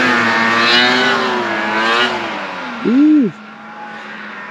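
Snowmobiles running through deep snow in a Minnesota park, a steady engine drone near and fairly loud with rising and falling pitch, then a brief louder whine as one passes close by; a voice calls out once.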